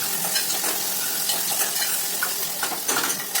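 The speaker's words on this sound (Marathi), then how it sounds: "जिरं मोहरी तडतडल्यानंतर कांदा मिक्स केला." Chopped onion fries in oil with cumin and mustard seeds in a pressure cooker, a loud, close, continuous sizzle with crackles and a spoon stirring, and no voices.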